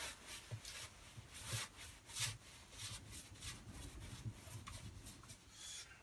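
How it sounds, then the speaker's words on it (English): Damp sponge scrubbing excess grout off tiles in a narrowboat, soft rhythmic rubbing and scraping strokes repeating close up at low volume, with no voices. "time to get a damp sponge, not wet, damp, and start cleaning off the excess"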